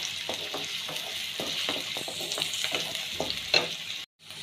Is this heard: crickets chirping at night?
no